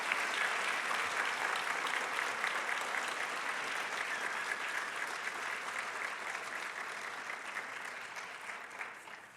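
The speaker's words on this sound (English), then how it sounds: "So again, a round of applause for our honorees today." Sustained applause from a luncheon audience honoring award recipients, a dense steady clapping that fills the room and fades slightly toward the end, with no voices over it.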